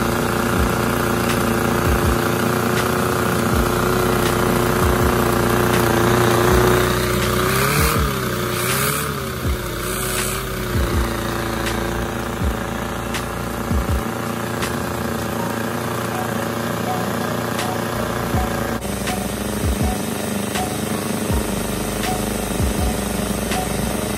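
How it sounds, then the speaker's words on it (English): A supercharged LVE engine runs steadily, first with the supercharger spinning and then without it, giving a continuous close mechanical drone with a rhythmic ticking beat. The tone shifts partway through, and a brief burst of added noise appears early on. "running this engine without the supercharger spinning, and with the supercharger spinning"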